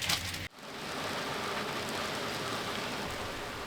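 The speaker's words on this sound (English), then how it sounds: "Stuck on the boat during heavy rain" Heavy rain pours down on a boat as a steady, loud wash of noise, continuing without a break after a brief dip at the start.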